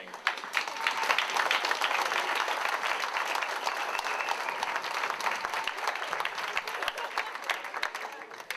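An audience at a Man of the Year awards event claps in loud, dense applause that holds steady for the whole stretch with no pauses.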